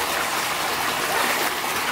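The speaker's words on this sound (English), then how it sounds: "Okay, will you turn off the water?" Running tap water pours in a steady, loud, continuous hiss and splash, close by, with no voices over it.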